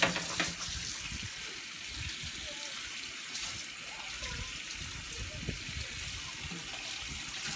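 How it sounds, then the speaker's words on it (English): A kitchen tap runs steadily while dishes are rinsed in the sink before loading a dishwasher, a continuous close splashing hiss with faint clinks and household noise throughout. "just rinsing off the dishes so I can put them in the dishwasher"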